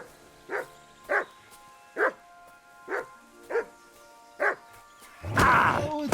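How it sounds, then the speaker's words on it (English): A dog in Kingdom Come Deliverance 2 barks six times in a steady, evenly spaced rhythm at moderate distance, followed by a burst of louder noise at the end. "Oh, it's a dog."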